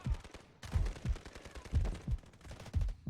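SMG-45 submachine gun fire in the mobile shooter Delta Force Mobile crackles in quick repeated bursts, punchy low thumps recurring steadily across the whole stretch.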